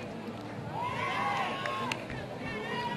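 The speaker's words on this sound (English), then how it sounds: "Crowd cheering, let's go Onyx. You can hear that out there." A crowd at an ultimate frisbee final between Chad Larson Experience and Québec Onyx cheers and chants from a distance, a steady hubbub mixed with shouts, while commentators talk over it.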